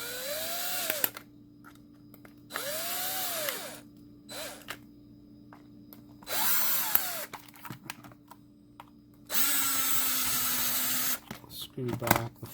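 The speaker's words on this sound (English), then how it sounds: "Let's screw this all back together." A power screwdriver drives screws back into a PS3 controller, giving several short whining bursts with rising and falling pitch, separated by pauses and small handling clicks, close-up.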